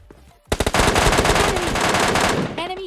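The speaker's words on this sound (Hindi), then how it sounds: "यहाँ पर मैं यहाँ पे MK40 से ईजिली इसे नॉक कर देता हूँ" A loud burst of rapid MK14 rifle fire in PUBG Mobile Lite erupts after a brief quiet moment, shots hammering in quick succession close up for over two seconds.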